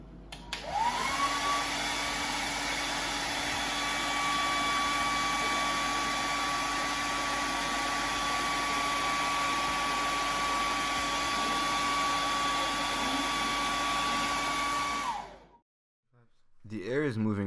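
A hair dryer blowing air at a ping pong ball switches on with a rising whine, then holds a loud, steady whoosh with a constant high tone before cutting off abruptly near the end.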